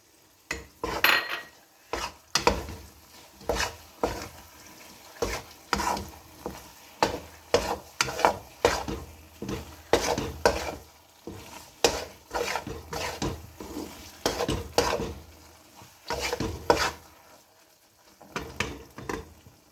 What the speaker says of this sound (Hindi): अब इसे अच्छी तरह भून भून लें और साथ ही डाल देंगे हम सफ़ेद तिल।